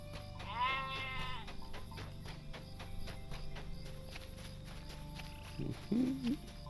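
Sheep in the Lord of the Rings Online game bleat twice, a clear wavering call early on and a shorter, lower one near the end, with faint hoof clops and ambient farm sounds between.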